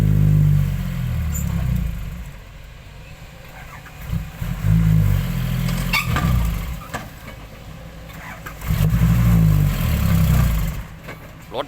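Car engine cranking and catching briefly, then dying out, repeated in several loud low bursts with quieter gaps between attempts.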